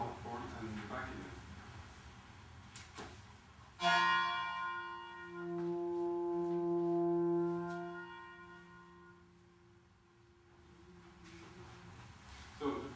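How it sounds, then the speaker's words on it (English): A synthesized sound morphs from a struck bell into an alto horn and back, a bright attack settling into a sustained harmonic tone that swells and fades, with brief talk before and after. "It's an artificial transition from a bell to an alt horn and back again."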